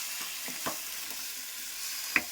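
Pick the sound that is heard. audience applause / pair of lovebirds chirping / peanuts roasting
peanuts roasting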